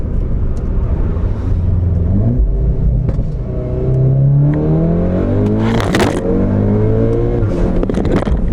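An Audi MK8/8Y with an upgraded turbo and tuned transmission control revs up loudly, pitch climbing and dropping sharply at quick gear changes, with a roaring exhaust and a brief burst between shifts.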